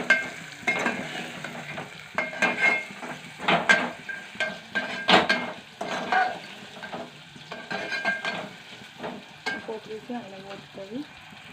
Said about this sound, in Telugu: కొంచెం హై ఫ్లేమ్లో పెట్టుకొని పోపు వేసి, ఇప్పుడు ఇందులో మనం అన్నీ వేసినాం కదా, దాన్ని ఫ్రై చేసుకుంటుంది